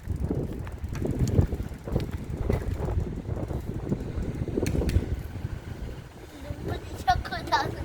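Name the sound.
wind blowing while riding a bicycle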